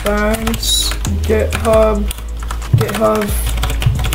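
Typing on a computer keyboard, quick soft key clicks heard under a speaking voice that talks almost throughout.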